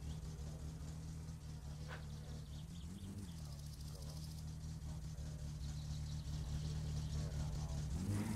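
Satsuma car engine in My Summer Car running steadily at a low, even drone while the car starts rolling forward, with a brief rise in pitch near the end; loud and continuous throughout.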